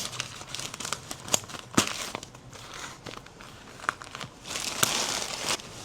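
A box being opened while its packaging crinkles and tears, with close, irregular rustling crackles and sharp snaps coming in uneven bursts and no talking.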